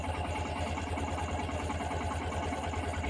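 A motorcycle engine idles steadily at close range at night by a cremation ground, a low, even rumble with a fast pulsing throb and no other sounds.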